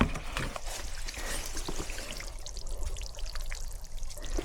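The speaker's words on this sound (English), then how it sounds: "You just step through a big thick patch of mud" Boots stepping through a thick patch of marshy mud that sends up bubbles, heard close as a continuous gurgling, trickling wash of water and sludge with irregular squelching pulses.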